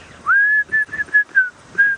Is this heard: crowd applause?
no